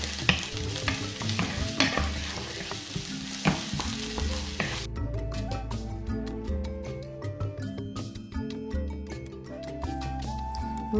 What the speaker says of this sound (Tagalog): Fry lang natin yung onions